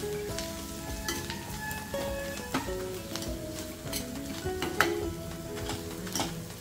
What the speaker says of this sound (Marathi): परतून घेते.